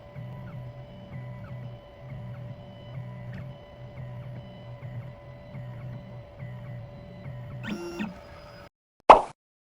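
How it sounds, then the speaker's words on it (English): A 2M2 Tank 2 Pro CNC key cutting machine decodes a clamped key, giving a steady motor hum with a pulsing rhythmic whir, a brief rising whine near the end, then a short sharp click before silence. "The machine is decoding the key."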